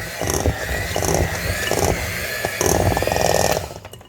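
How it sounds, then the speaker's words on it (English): Electric mixer churning thick cookie dough of sugar, egg, butter and flour in a bowl, a loud close motor whine that labors and surges in bursts before cutting off. "I continue to mix with the electric mixer"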